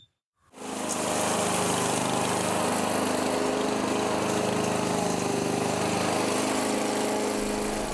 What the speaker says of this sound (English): is mowing the lawn in an employee's garden